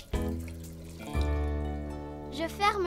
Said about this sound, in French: J'ouvre le robinet.